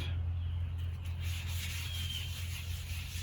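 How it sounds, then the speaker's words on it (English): Wet sandpaper wrapped on a block scrubs in small circles over a rusty metal chair, a steady close rasping rub that continues without pause. "Start off working in small circular motions, and you'll feel it grab here and there as you're sanding."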